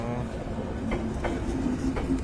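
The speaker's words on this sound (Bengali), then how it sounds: "এই যে ঢুকলো ট্রেন।" A Dhaka–Rajshahi passenger train creeping slowly into a station in dense fog, with low steady rumbling, faint squealing tones and soft rhythmic wheel clacks, fairly near and continuous.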